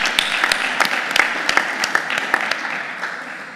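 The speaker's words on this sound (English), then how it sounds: "Shouldn't the room get some type of applause?" Scattered, fairly close hand claps ring out in a meeting room during a university Board of Regents session, a light round of applause with distinct individual claps spaced irregularly over a few seconds before tapering off.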